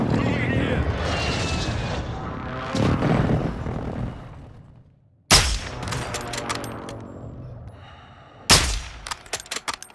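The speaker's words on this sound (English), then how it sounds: "Enemy precision airstrike." Heavy explosions from a precision airstrike in Call of Duty: Modern Warfare II, a rumbling barrage fading out, then two sharp close blasts with crackling debris, loud and alone.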